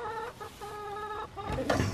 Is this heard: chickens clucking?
yes